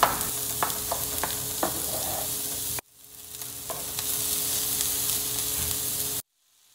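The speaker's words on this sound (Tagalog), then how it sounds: "Igisa ang sibuyas. At isunod naman ang bawang." Chopped onion and garlic sauté in hot oil in a pan for kinamatisang talong, a steady bright sizzle with a few stirring clicks, cutting off abruptly and then resuming before a final stop, close and with no talking.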